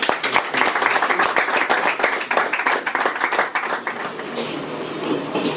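Applause from an audience at an official swearing-in ceremony for Brazzaville's urban transport director, brisk rapid clapping from a moderate crowd, loud at first and gradually thinning toward the end.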